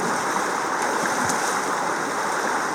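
Steady, loud rush of flowing creek water at a trail creek crossing in the Black Hills, South Dakota, continuous and close, with no voices.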